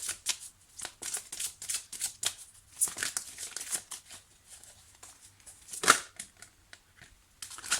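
Oracle cards are shuffled and drawn close up, giving irregular papery riffles, slaps and soft flicks in quick bursts with brief pauses between them.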